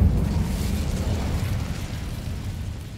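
The Incendio fire spell goes off in a Hogwarts video game: a dense, rumbling burst of flame that starts at full strength and slowly thins out over a few seconds.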